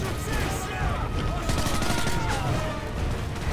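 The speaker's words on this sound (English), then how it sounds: "Where are they shooting at from?" Continuous rapid gunfire from a Modern Warfare 3 multiplayer match, dense overlapping shots and bursts filling the clip loudly with no pauses.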